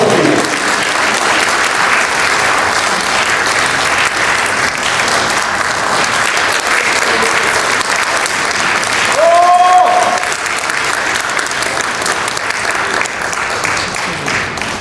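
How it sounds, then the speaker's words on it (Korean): Sustained applause from an audience at a Korean CBMC regional chapter president inauguration ceremony, a steady dense roar lasting the whole stretch, with a brief voice rising faintly over it near the middle. "박수 부탁드립니다."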